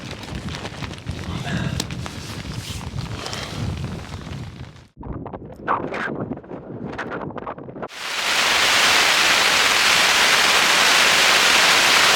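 Loud, steady wind roaring across the microphone while pitching an expedition tent, gusting and buffeting with rustling underneath, then settling into a constant broadband rush toward the end.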